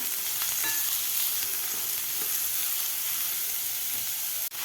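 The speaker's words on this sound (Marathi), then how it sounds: "कांदा आपल्याला दोन ते तीन मिनिट आपल्याला व्यवस्थित परतून घ्यायचा आहे" Onions sautéing in a pan for a Nagpur-style Savaji dal kanda, giving a steady, dense sizzle and crackle of frying that continues evenly throughout without any talking.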